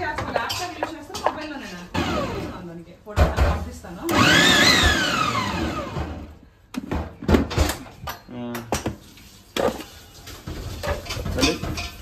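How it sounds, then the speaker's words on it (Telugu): A mixer grinder chops onions for chicken curry in a home kitchen, whirring in several short bursts that rise and fall in pitch, with a voice talking between the runs along with clatter of the jar and lid. "మన ఆనియన్స్ మిక్స్ చేసుకుంటున్నామండి"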